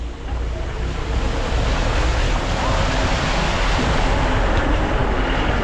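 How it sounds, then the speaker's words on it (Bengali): Butterfly Waterfalls in North Sikkim, a loud, steady broadband roar of rushing water heard close up, with some wind buffeting on the microphone and no talking. "এই যে বাটারফ্লাই ওয়াটারফলস, বেশ কিন্তু ভালো জল আছে"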